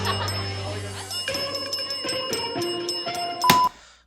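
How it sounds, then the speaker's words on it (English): A bartender in a bar rings a bell, several bright metallic dings with lingering tones, repeated and rising toward a loud clang near the end, amid background noise. "She's ringing that stupid bell"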